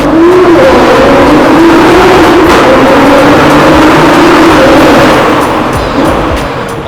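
A 1400 hp Nissan GT-R engine roars loudly from inside the car during a ride, a sustained hard acceleration with rising pitch that eases off near the end, without voices.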